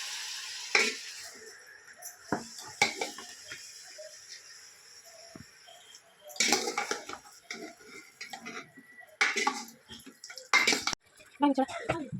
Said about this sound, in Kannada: ಒಂದಿನಿತ್ತೆ ಲಾಯ್ ಕಡೆ ಮಿಕ್ಸ್ ಮಾಡ್ಬೇಕು. ಮಿಕ್ಸ್ ಮಾಡ್ತು ಬೇಯರೆ ದೀವಡು ನಾನು